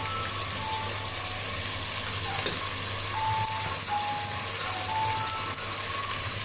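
Ginger paste hits hot oil with frying beef and sizzles in a steady, soft crackle from a nearby pan, continuing without pause.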